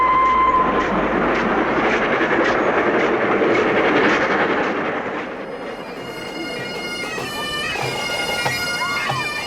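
The Flying Scotsman steam locomotive rumbles past with a loud, continuous roar and rhythmic clickety-clack of wheels, easing slightly midway as ringing metallic tones rise.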